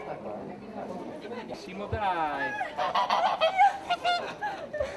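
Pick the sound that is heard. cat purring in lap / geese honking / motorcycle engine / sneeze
geese honking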